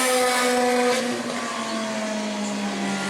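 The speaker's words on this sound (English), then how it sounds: "Here comes Chuck Rush to the checkers." A race car in Bomber A qualifying at New Smyrna crosses the checkered flag, its engine whining at a steady high pitch close by, then dropping slightly in tone as it passes and carries on.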